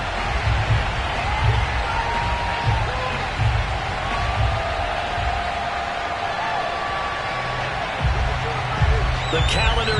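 A football stadium crowd roars steadily in the distance during an NFL Week 13 game against the Chicago Bears, a broad sustained wash of cheering with occasional swells, beneath a commentator's voice.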